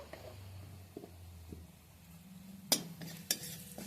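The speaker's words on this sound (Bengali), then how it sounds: "এবার এইটা আমি ভালো করে ভেজে নিচ্ছি" Home-ground coriander, cumin and garam masala powders frying in a pan while being stirred, with a soft low sizzle, a few light scrapes and two sharp metallic clinks of a spoon near the end.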